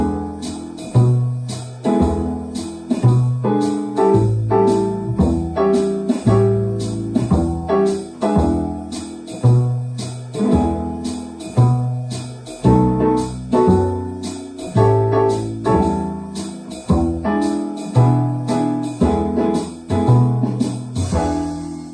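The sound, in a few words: bass guitar playing root and fifth, two notes per bar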